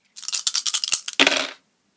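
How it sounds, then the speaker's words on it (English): Dice rolled during a math board game, a quick burst of close hard clattering and rattling on a tabletop, then a final skittering tumble and silence. "and they roll the dice."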